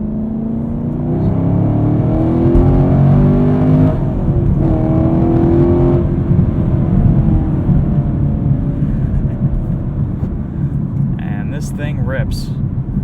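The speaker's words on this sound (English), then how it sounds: "You've got to get a Camaro with some type of an exhaust, whether it's a GM performance exhaust or aftermarket. This one really sounds good" A 2018 Chevrolet Camaro 2SS with a six-speed manual and a performance exhaust drones steadily while driving, its engine pitch climbing and then settling, heard from inside the cabin.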